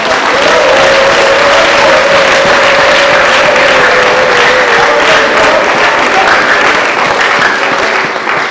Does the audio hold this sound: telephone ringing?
no